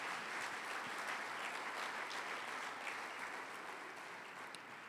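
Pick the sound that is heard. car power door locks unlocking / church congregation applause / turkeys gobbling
church congregation applause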